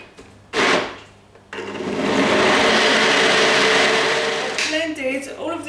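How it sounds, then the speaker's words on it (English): A blender whirs through leek and potato soup, a short loud burst, a pause, then a long steady roaring blend that rises and settles as the motor runs on. "I'm going to put this onto the blender, and as I said, I'm going to blend this until everything is smooth."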